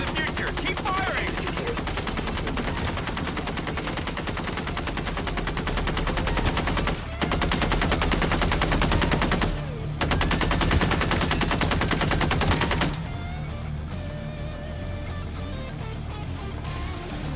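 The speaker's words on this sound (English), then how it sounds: "Keep firing." Rapid automatic gunfire from the video game MindsEye fills the scene, dense bursts of shots over a loud game soundtrack, briefly pausing before quieter, sparser action near the end.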